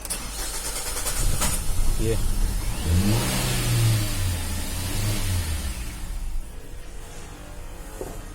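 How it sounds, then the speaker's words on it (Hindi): A Hyundai Xcent with a misfiring engine and a starting fault cranks for a long time, then catches, stumbles and revs unevenly close by, while someone talks over it. "गाड़ी मिसिंग कर रही है और स्टार्टिंग पे इशू है"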